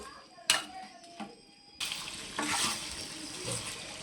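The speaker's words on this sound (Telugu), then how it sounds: "ఈ మసాలా ఈ నూనెలో ఈ మసాలా బాగా వేపుకోవాలి" Masala for chicken fry sizzles in hot oil, with a few sharp clinks of a utensil against the pan early on, then a louder, continuous frying hiss as the spice mix goes in and is stirred.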